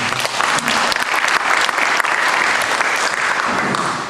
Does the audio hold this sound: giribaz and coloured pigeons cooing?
no